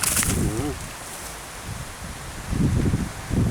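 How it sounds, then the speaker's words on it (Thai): Strong gusty wind hits a camera microphone set low to the ground outdoors, giving a constant low rumble that surges in bursts, with a brief voice early on. "ลมอาจจะแรงไปนิดนึงนะครับ ผม ก็พยายามหลบลมนะครับ ตั้งกล้องต่ำๆนะครับ ลมแรงมาก"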